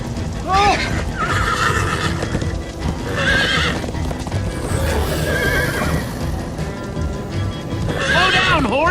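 Horse in Minecraft Story Mode Episode 4 neighing in repeated loud whinnies over a steady clip-clop of galloping hooves, with voices talking throughout.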